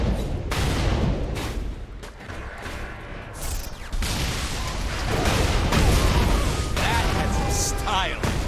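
Gunfire and explosions from the Saints Row 4 video game in co-op play: dense bursts of shots and booming blasts in rapid succession, loud and continuous under overlapping player voices talking.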